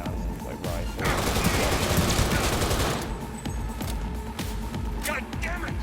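Gunfire in Cyberpunk 2077, a dense burst of rapid automatic shots and crackling fire that swells and then thins into scattered single shots, with a voice talking over parts of it.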